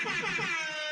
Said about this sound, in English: Let's get one more on the air horn for him.